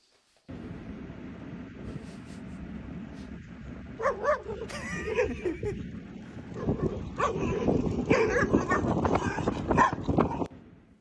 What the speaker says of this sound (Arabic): جايبين كلاب